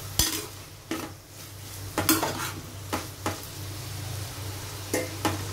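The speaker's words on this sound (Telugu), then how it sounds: "అట్టిక ముక్కలు కూడా ఈ ఆయిల్లో ఉల్లిపాయలతో పాటు ఎగుతున్నాయి" Raw banana pieces fry with onions in oil over a low flame, a steady close sizzle broken by sharp spoon scrapes and clinks against the pan about once a second.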